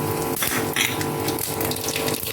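Dry red chillies and mustard seeds sizzle steadily in hot oil, a dense continuous crackling hiss with small pops, close and loud throughout.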